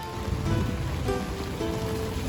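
Steady rain falling outdoors, a dense, even wash of droplets that stays constant throughout, with no voices over it.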